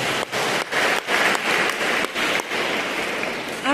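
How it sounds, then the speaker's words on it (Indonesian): A church congregation claps for a choir of young and old singers during a Sunday Mass, dense applause heard in bursts with brief dips, fairly close and filling the hall. "Tepuk tangan untuk mereka."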